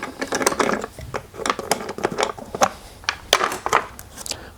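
A ratchet wrench loosens the 8mm nuts on the carburetor of a Honda EU2000i portable inverter generator, producing a close series of quick, uneven metallic clicks and ratcheting rasps with brief pauses between bursts.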